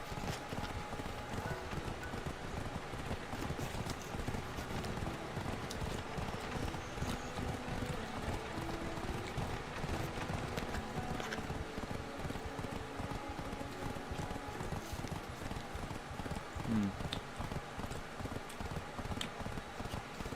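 Donkey hooves clip-clopping while riding in Black Desert Online, a steady rapid patter of hoofbeats that continues throughout over a dense game background.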